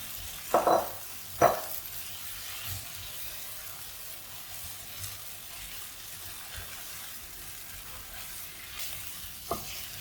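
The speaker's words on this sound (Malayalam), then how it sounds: "ഇനി നമുക്ക് നമ്മളെടുത്ത് വെച്ചിരിക്കുന്ന പൊട്ടറ്റോ ഫ്ലവർ ഇട്ട് കൊടുക്കാം" Potato and cauliflower pieces tossed into masala in oil, a few loud clattering stirs at the start, then a low steady sizzle with an occasional spoon knock, no speech.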